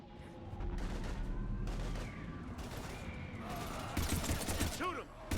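Heavy gunfire in the video game Mass Effect 3, a dense, continuous barrage of rapid shots and impacts running throughout, loud and close, with louder bursts near the end and game effects mixed in.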